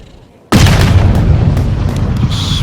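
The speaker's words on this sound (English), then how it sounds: "Frank, did you hear the sound of that coming off the club face? It was like a cannon." A golf ball struck off the club face in the EA Sports PGA golf game: a sudden loud booming impact after a brief quiet start, followed by a sustained, dense wash of noise that fades only slightly.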